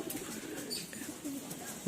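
Pigeons held for sale coo softly in a low, murmuring tone against a steady background hiss, close but not loud.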